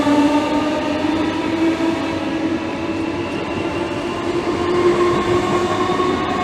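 A Class 315 electric train departs at Romford on the Great Eastern Main Line, its loud traction motor whine rising steadily as carriages rumble and roll past close by for several seconds.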